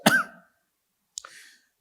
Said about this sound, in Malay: Banyak batuk dia bercakap